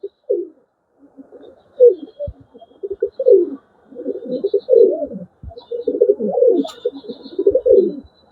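Pigeons coo close by in a series of soft, throaty phrases repeated with short pauses between them.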